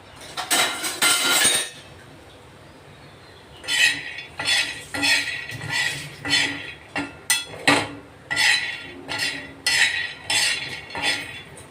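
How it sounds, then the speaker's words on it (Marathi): Peanuts dry-roast in a pan for a stuffed capsicum masala, a spoon scraping and clinking against the metal in an irregular run of close, rattling strokes with a pause near the start. "तर शेंगदाणे भाजून घेऊ आधी"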